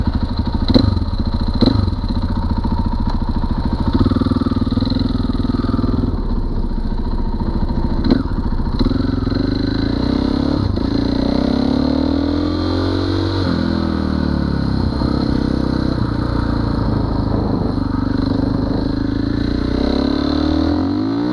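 A KTM 500 EXC motorcycle accelerating on a road toward a freeway, its engine loud and close, the tone climbing through gears with shifts and a steady wind roar.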